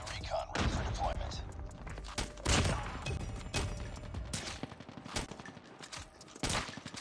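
Gunfire from a sniper rifle in the mobile game Call of Duty Mobile, with loud booming shots and chaotic battle noise, while a player talks over it.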